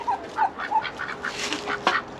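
Ducks on a farm, penned in with turkeys, give a run of short nasal quacks in quick succession, fairly close and clear over a faint outdoor background.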